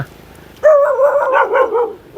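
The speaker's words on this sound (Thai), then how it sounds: "อุ้ยหมาเห่า" In a rural Thai village in Khemarat district, Ubon Ratchathani, a dog lets out a loud, close, drawn-out bark with a whining, yelping tone that lasts over a second, then stops.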